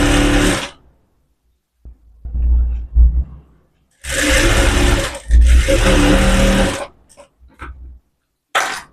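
A sewing machine stitches umbrella fabric in loud, close bursts of whirring, several runs of a second or more broken by silences, with no voices.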